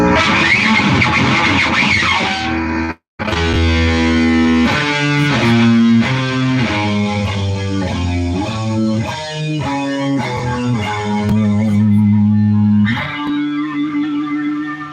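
Electric guitar run through distortion effects plays a twelve-tone row, a loud continuous stream of distinct shifting notes with one brief dropout near the start, no voices.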